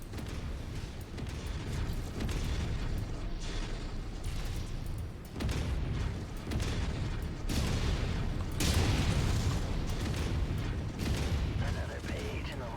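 Buildings being blown up in the MechWarrior 5 video game, a dense, continuous roar of booming explosions and rumbling destruction lasting several seconds, with a voice talking underneath.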